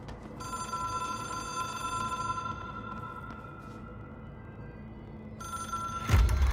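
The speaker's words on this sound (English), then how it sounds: "It is a phone." A telephone rings in the video game Architecture Appreciation Simulator: a steady electronic ringing tone that holds for several seconds, pauses, then returns, over a low background hum, with a brief louder thump near the end.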